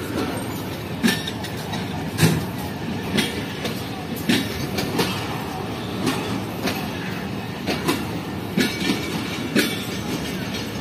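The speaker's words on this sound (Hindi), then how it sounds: "लेकिन ट्रेन चलना शुरू हो गई है।" The Green Line Express pulls out of Raiwind Junction on a hot day, wheels clacking over rail joints in a steady repeating rhythm with loud rumbling, close by and with no talk.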